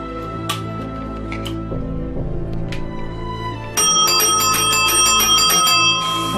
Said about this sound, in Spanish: con su timbre incorporado